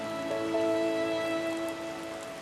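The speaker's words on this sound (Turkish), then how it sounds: "Bir tek yağmurun sesi var." Rain falls steadily on a surface, a soft continuous patter with a faint tonal hum beneath it, even in level and heard alone without voices.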